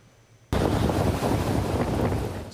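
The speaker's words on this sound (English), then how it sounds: "the Green Island off the eastern coast of Taiwan was battered by winds and waves" Sudden onset of heavy roaring storm wind and crashing surf off Green Island, eastern Taiwan, a dense continuous rush that stays loud until the end.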